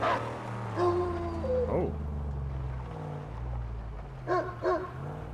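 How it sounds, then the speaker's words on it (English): A dog in the Mad Max video game howls and whimpers in several rising, wavering cries, with short yelping calls near the end, heard over a low steady rumble of game ambience. "Good dog. Where are we, puppy dog?"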